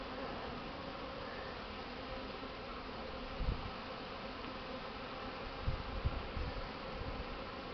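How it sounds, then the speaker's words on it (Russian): Honeybees buzz around their hive on a winter cleansing flight in December, a steady, dense swarm drone with a few louder passes close by. "Наша местная пчела"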